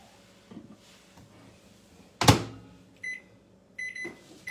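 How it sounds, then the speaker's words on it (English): A microwave oven is started to cook ground beef: soft handling sounds, then a sharp thud as the door shuts, followed by short electronic beeps from the keypad, all in a quiet kitchen. "So that's going to start cooking now for 2 minutes."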